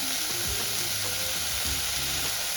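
Egg fried rice with light soy sauce frying hard in a pan over high flame, a dense steady sizzle with scraping stirs, close and loud with no talking.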